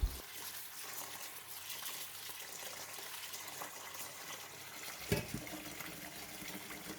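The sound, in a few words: water filling a basin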